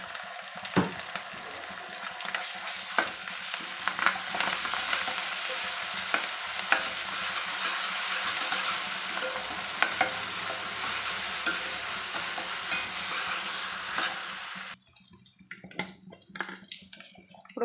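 Ginger garlic paste sizzling and being stirred in hot oil for a meal maker tomato curry, a steady loud frying hiss with scraping strokes that suddenly drops away near the end.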